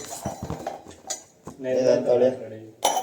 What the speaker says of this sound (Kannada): ಪಾತ್ರೆ ತೊಳಸ್ತವ್ರೆ ನಾನು